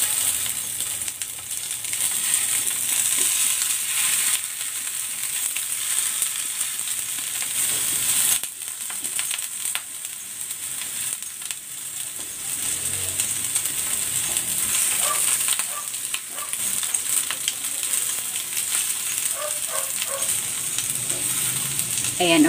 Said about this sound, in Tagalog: Lalagay ako ng konting oil. Ayan, isasalang ko muna dito yung ating stuffed ampalaya.